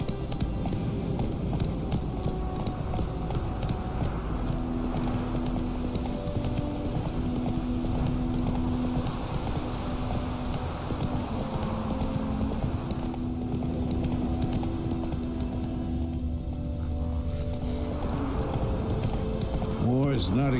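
Roach the horse galloping in the video game The Witcher 3: Wild Hunt, a steady rhythmic clip-clop of hooves that runs through the whole stretch, loud and mixed with dense game ambience and a low hum.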